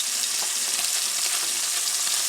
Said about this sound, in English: So the sausage cooks for a few minutes.